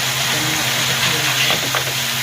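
Small kachki fish with raw mango fry in a pan, a steady close sizzle and crackle filling the whole moment, with faint stirring and a soft voice underneath.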